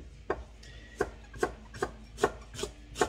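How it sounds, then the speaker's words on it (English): A knife chops fresh ginger into a fine julienne on a board, seven crisp, evenly spaced strikes sounding close and clear with no talk, each cut a sharp tap with a short scraping edge. "We just give them a really fine julienne chop"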